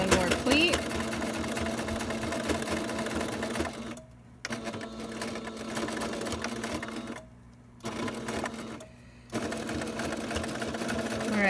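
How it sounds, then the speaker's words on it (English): Sewing machine stitching over elastic and pleats of a cloth face mask, close rapid mechanical whirring in bursts separated by short pauses, with a voice talking during the stitching. "I'm sewing over the elastic again on the bottom now."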